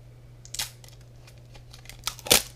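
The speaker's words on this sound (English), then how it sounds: "that's the noise of me opening up something right now" Plastic packaging on a Grossery Gang toy soda can being torn open up close, with a few sharp crinkling rips and a louder tearing burst near the end, no talking.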